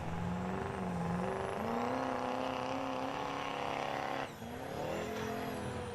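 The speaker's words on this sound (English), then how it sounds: "And next up we got a Duramax Chevy Power here. Pulling off the line." A Duramax Chevy pulling truck at a truck and tractor pull launching off the line, a loud sustained engine roar with rising pitch and a brief dip before revving on, heard close.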